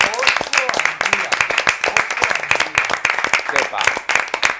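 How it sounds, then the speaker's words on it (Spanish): Audience clapping at an Aste Nagusia festival event in Bilbao, sharp uneven claps mixed with shouting and voices, loud and close. "yo creo que no hay más que decir que dar un aplauso."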